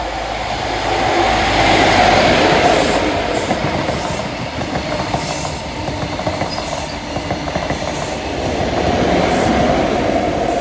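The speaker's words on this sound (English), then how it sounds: "Here comes an ExLNER HST" An ex-LNER HST diesel train passes at Slateford, a loud, sustained roar of engines and rolling wheels with rhythmic clattering and faint squeals, rising and easing slightly as the carriages go by.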